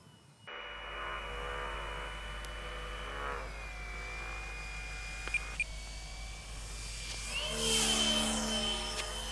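Small balsa Cub model airplane motor in flight, a steady buzzing drone with shifting pitch that holds throughout, fairly faint and heard from a distance, with no talk.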